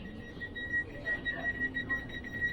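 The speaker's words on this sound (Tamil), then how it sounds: "டோர் க்ளோஸ் ஆனா அப்படியே இந்த பீப் சவுண்ட் எடுத்து பாருங்க" A door warning beep on the 22457 Vande Bharat Express at Anand Vihar Terminal, Delhi: a steady high electronic tone with faint pulsing that runs throughout, over a low rumble of station noise and distant murmur.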